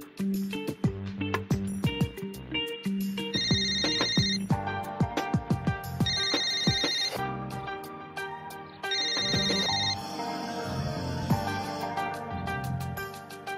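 A telephone rings indoors in a TV drama scene, with a repeating electronic ringtone and its bright chiming bursts recurring several times over a busy musical background. The ringing sounds loud and near.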